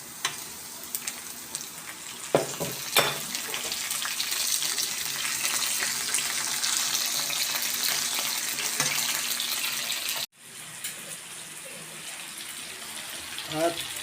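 Tomatoes sautéed in a frying pan, a steady loud sizzle with a few clanks as they go in, broken by a brief cut before the frying resumes, with no clear talking.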